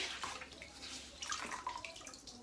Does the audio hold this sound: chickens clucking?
no